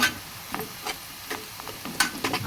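Onion pieces frying golden in a pan for a fish curry, with a soft steady sizzle under repeated scraping strokes of a spoon stirring them at an uneven rhythm.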